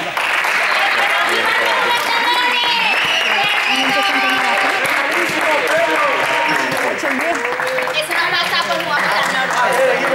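An audience of children gives applause for the fourth-place team at a school awards event, a dense burst of clapping mixed with excited shouting and chatter throughout.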